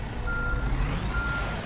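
Truck reversing beeps from the On The Road Truck Simulator video game, a steady series of electronic tones repeating over a low engine rumble, with no talk.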